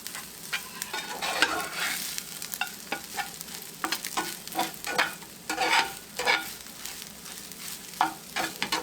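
Hot Tex-Mex bacon fried rice stirred in a pan, with a spatula scraping and clattering in irregular bursts over a steady, crackling sizzle; close and fairly loud, no voices.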